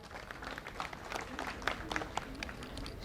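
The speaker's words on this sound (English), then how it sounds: "Let's give it a round of applause for Rupanshi." Audience applause greeting a model brought out at a professional makeup demonstration, a steady patter of clapping with a few sharper claps standing out across the short stretch, fairly faint and distant.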